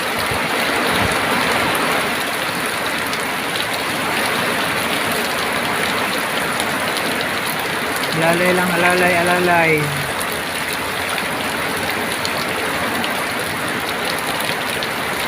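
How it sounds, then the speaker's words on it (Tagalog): Heavy rain pours steadily on a road while someone drives home, a dense constant hiss throughout; someone speaks briefly partway through. "Malakas ng ulan no, dilim ng ano."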